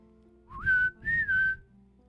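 A person imitates a whistle signal with two clear, close whistled notes: a short rising call, then a longer held note that dips slightly, over a faint low background rumble.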